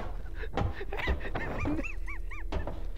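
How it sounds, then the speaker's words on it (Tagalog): Dog in the video game Lethal Company giving a quick series of yips and whining, rising-falling whimpers, fairly close and moderately loud over a low game rumble. "may aso eh! Aso eh!"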